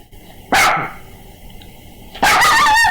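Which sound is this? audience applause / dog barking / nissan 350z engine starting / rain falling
dog barking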